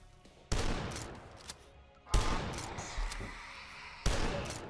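Three sharp gunshots spaced about 1.5 seconds apart, each with a booming low-end hit and lingering decay, fired from a weapon in the retro first-person shooter Dusk, level 7.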